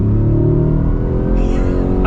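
The 5.2-litre V8 of a 2024 Ford Raptor R pickup truck revs and accelerates with a deep, rising roar, loud and close, briefly joined by a burst of higher-pitched noise.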